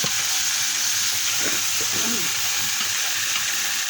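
Puffed rice (muri) being fried, a constant loud hissing sizzle with faint voices talking softly underneath.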